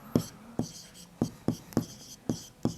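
Writing on a board makes a run of about eight sharp, evenly spaced taps and short strokes, close and distinct over a quiet room.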